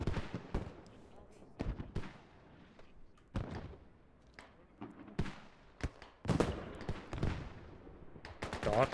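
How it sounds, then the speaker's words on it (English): Repeated heavy mortar shell blasts in the tactical shooter Squad during an esports grand final, sharp booms scattered irregularly across the stretch, some close and loud, others more distant, with a commentator's voice faintly underneath. "Mortar straight to the face of Aspect and Stepbro."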